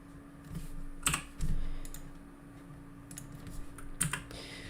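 Keys clatter on a computer keyboard as code is typed, with a few sharp isolated clicks and short bursts spaced over several seconds against a steady low room hum, no voices.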